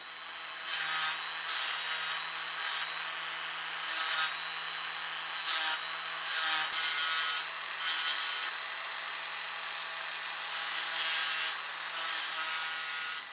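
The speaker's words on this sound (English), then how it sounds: "just need to refine the shape a little bit with the Dremel tool" A Dremel rotary tool grinds and shapes a swimbait lure tail in bursts, a steady high whirring rasp that pauses briefly between passes over a faint low hum.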